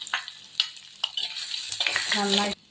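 Loud, steady sizzling of small chillies frying in hot oil, broken by a few scraping stirs, then cutting off abruptly near the end.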